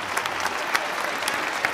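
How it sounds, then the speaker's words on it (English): Steady applause from a lecture audience in a large hall, a dense patter of many hands clapping at an even level with a few sharper claps poking through, no voices on top. "I appreciate the applause"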